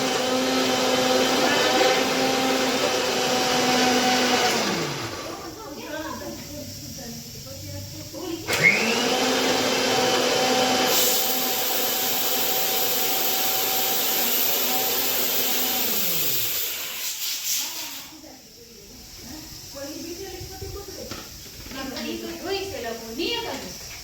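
A kitchen mixer grinder whirs loudly in bursts while pav bhaji is being made, each run winding down before starting again, with people talking over it.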